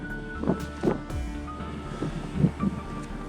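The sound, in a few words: wind on a mountain summit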